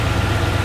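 A car engine idles steadily under a closed hood to warm and dry the engine bay, giving a loud, close, continuous low hum and vibration with no talk.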